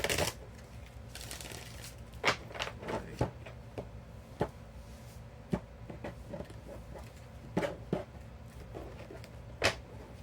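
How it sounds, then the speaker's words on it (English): Tarot cards are shuffled in soft riffling bursts with scattered sharper taps and slaps, quiet and close, no voices. "We get one more shuffle"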